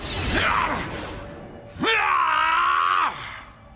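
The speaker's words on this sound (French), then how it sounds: "J'ai entendu crier." Cartoon character from an animated series letting out a drawn-out groaning cry, then a loud sustained scream rising sharply and holding for over a second before cutting off, close and alone.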